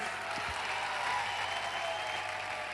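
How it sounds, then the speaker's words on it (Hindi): An audience at a large stage event applauds for Parimal sir, a continuous wash of clapping heard faintly and evenly from a distance, with a couple of brief low thumps near the start. "परिमल सर के लिए एक जबरदस्त तालियां जरूर होनी चाहिए"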